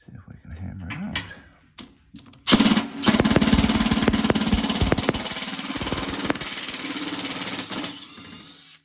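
A screw extractor from a Hercules kit is hammered into a stripped screw, then a power tool runs in a loud, dense sustained burst lasting several seconds, preceded by a few sharp knocks.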